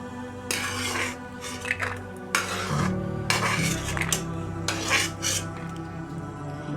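Fried pieces are lifted out of a kadai onto a plate, with repeated metal scraping and clinks of a spoon against the pan in close, irregular bursts and a faint sizzle underneath.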